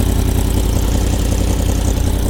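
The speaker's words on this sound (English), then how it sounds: "let's hear how that engine sounds" A loud, steady 1000cc motorcycle engine idling with a deep rumble and constant vibration, close by, no voices.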